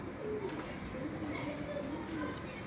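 Breeder pigeons coo softly in a low, repeating murmur, faint and close, while someone speaks over them.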